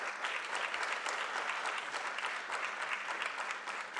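Steady, dense applause fills a hall as an audience claps throughout an award presentation at a logistics and transport professionals' association launch.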